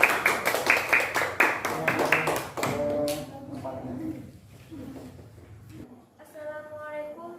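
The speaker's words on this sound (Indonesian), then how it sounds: "Ya, tepuk tangan semuanya." A class claps hands in a school lesson, a burst of loud, rhythmic, close claps for about three seconds that then fades into softer scattered taps and murmuring voices.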